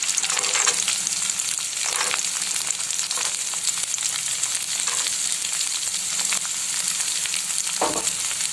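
Beans and carrots stir-fry in a hot pan for chicken fried rice, making a loud, continuous close sizzle with occasional stirring scrapes and no voices.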